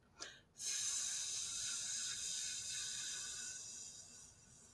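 A steady, breathy hiss made by a voice imitating a lawn sprinkler's spray, holding evenly for several seconds after a short breath.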